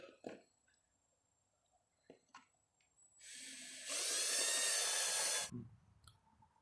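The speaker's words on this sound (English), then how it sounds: "So what I did, I got a step drill bit." A few clicks and handling knocks, then a drill with a step drill bit whirs up and grinds loudly for a couple of seconds before stopping abruptly, during Orion RXB 150XL pit bike assembly.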